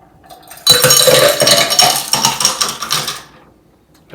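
A shaken Long Island Iced Tea pours from a shaker into a glass, with ice clinking and sloshing loudly for about three seconds before tapering off.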